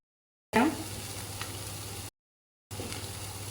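Deggi chili powder tipped into a hot pan of oil for a spicy pumpkin pakora curry: a sudden burst of sizzling that settles into a steady close hiss, broken by a short silent gap before it resumes.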